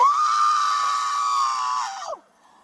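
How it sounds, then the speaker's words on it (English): A woman screams during an arrest: one long, loud, sustained high-pitched scream that breaks off sharply near the end. "Stop screaming!"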